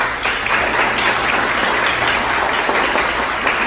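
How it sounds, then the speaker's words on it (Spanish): Sustained audience applause at a leadership talk in Manzanillo, Colima, a dense, even wash of clapping from a large crowd with no breaks. "quiero que le demos un aplauso aquí a estas dos chicas"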